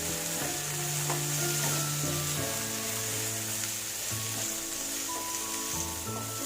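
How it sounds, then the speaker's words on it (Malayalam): Dried prawns sauté in a hot pan for a Kerala-style chutney, giving a steady, close sizzle with stirring scrapes throughout and background music underneath. "ഇത് ഒന്ന് നന്നായിട്ട് വഴറ്റിയെടുക്കുക."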